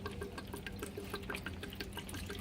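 Tap water pours into a Peri-Pro processor unit, a close, continuous splashing trickle with small irregular bursts, quiet and steady for the whole stretch without speech.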